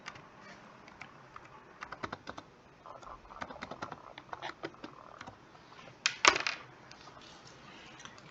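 Someone types a password on a computer keyboard, a steady patter of soft key clicks with a slightly louder tap near the end, close and alone in a quiet room.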